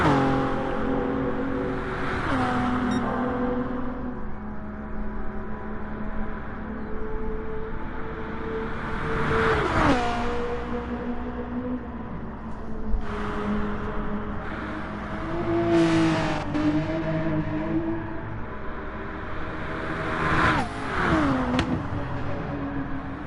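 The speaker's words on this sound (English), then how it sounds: "That beautiful Mercedes AMG GT." A Mercedes AMG GT race car in a GT3 racing video game roars steadily at high revs, rising through the gears with sharp downshift blips and brief lifts, engine droning continuously with no talk.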